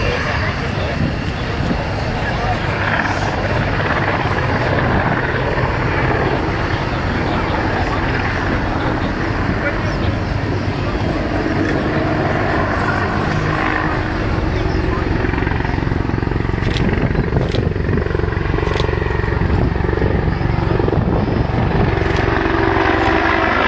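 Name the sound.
Apache attack helicopter flying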